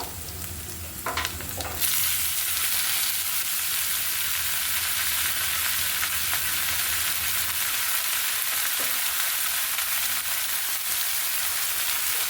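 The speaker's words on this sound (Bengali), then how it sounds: "এবার আমি কুমড়ো ফুলগুলো দিয়ে দিব" Pumpkin flowers hitting hot oil with lightly browned garlic in a pan on a low flame: a short burst of clattering as they go in, then a steady, even sizzle that carries on alone.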